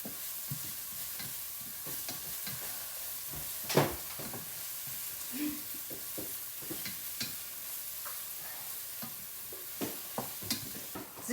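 Red onions frying in oil while being stirred, a continuous soft sizzle broken by repeated scraping and clacking strokes of the spoon against the pan, close and fairly quiet, with no one talking.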